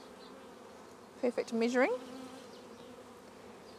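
About 300 honey bees shut inside a jar give a brief burst of buzzing mid-clip over a faint background, with a quiet voice speaking.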